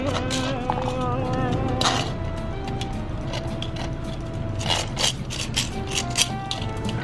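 Hair being trimmed around the ears with a home haircut kit, a steady close buzzing with rubbing and scraping as the trimmer moves, plus a few brief louder strokes.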